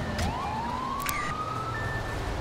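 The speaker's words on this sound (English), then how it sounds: "that's a funny sounding siren here" A police siren in the GTA 5 game, an odd-sounding wail whose pitch rises and then holds over a steady low rumble, loud and close, with no talking.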